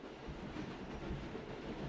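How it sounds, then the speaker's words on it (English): Steady low rumble of a train ride in a dating sim video game, a soft continuous rolling hum with faint rhythmic clatter, alone without talk. "We're on a train."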